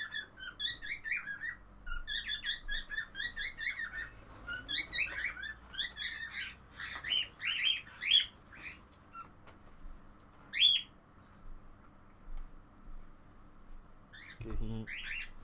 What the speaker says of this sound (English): The bird is making a lot of noise.